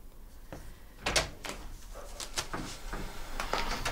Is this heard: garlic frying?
no